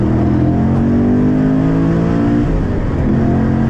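A cammed Chevrolet Camaro Z/28 muscle car engine roars loud and close during a hard acceleration pull, the revs climbing steadily in a continuous rising growl heard from inside the car.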